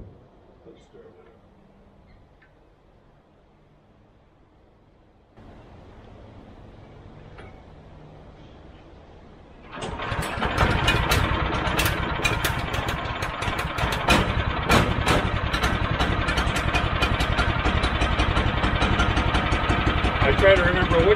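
A sawmill engine is started after quiet handling noises, then settles into a loud, steady idle close by, running continuously to the end while a person talks.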